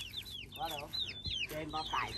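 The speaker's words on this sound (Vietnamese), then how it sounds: "Mấy con gà mái? Mấy con gà trống? Gà đen à?" Black-legged chickens cluck and chirp steadily in a small rural coop, with overlapping calls close by and voices talking nearby.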